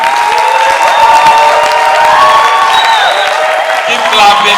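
An audience applauds a guest lecturer at an academic writing workshop, a loud, sustained wash of clapping with scattered cheers and whoops, with voices audible throughout.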